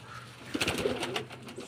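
A pigeon coos softly in a short throaty burst of a few low notes, fairly close, with quiet background hum.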